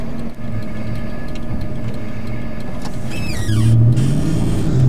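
A car with a twin plate clutch idles, then the engine note rises as it pulls away, with a brief whirring sweep and a steady low rumble building toward the end.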